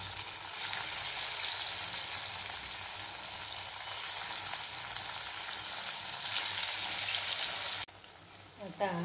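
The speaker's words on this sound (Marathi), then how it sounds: "आता या परतून घ्या किंवा तळूनही तुम्ही घेऊ शकता। इथे तेल छान तापलेलं आहे" Kothimbir vadi, coriander fritters, fry in hot oil over a low gas flame, giving a steady, close, hissing sizzle that ends with a few faint stirring clinks.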